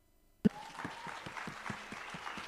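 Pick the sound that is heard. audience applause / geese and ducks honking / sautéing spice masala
audience applause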